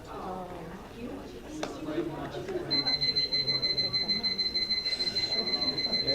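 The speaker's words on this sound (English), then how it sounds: "It's like the alarm when you were little." Electronic timer alarm at a city council meeting marking the end of speaking time, a steady high-pitched repeating beep pulsing rapidly for about three seconds over murmuring room chatter and background talk.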